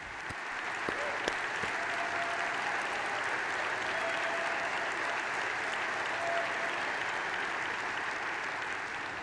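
Enormous, sustained applause from a large audience after praise for recognizing Israel's sovereignty over the Golan Heights, a dense, continuous roar of clapping at steady loudness throughout.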